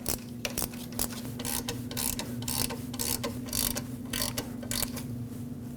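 A ratchet tightens the parking brake cable bolt on the differential of a 2009–2010 Dodge Ram 1500, producing repeated clicking bursts in short uneven spurts over a low steady hum, close up with no speech.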